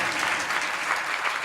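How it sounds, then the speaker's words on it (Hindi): Audience applause at a bhajan evening event, steady dense clapping filling the short moment without any voices on top. "एक बार ताली तो बना जाएगी मेरी"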